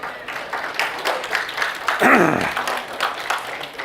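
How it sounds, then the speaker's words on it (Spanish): A church audience breaks into applause for Job during a Spanish-language sermon, steady clapping sustained throughout alongside voices and a brief sweeping tonal sound midway. "un aplauso para Job"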